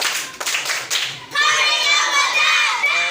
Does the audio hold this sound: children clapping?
yes